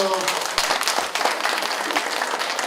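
An audience at a Won Buddhist talk concert applauds guests as they leave the stage, a loud, continuous round of clapping with a voice briefly heard at the start.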